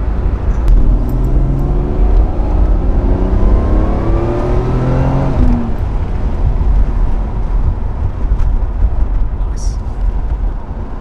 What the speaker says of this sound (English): I can hear the turbos just going zzz.